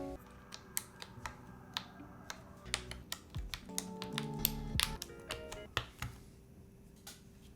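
Keycaps are pressed onto a mechanical keyboard, making a quiet series of sharp plastic clicks and taps at an irregular pace, close and alone.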